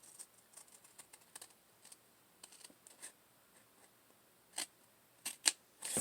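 Scissors cut through card stock, giving quiet, scattered crisp snips and rustles at close range, with a few sharper louder clips near the end and no talk.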